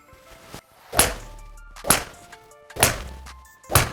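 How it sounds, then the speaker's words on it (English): Four crisp thunks of a golf 4 hybrid club fitted with a 7 iron length shaft striking the ball, evenly spaced about a second apart and heard close up. "I've just hit my first 4 shots with a 4 hybrid with a 7 iron length shaft in"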